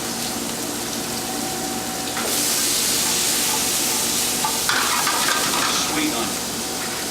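Vidalia sweet onions sizzle and fry in a pan, a steady hiss that swells louder midway as they are stirred, with a person talking over the cooking.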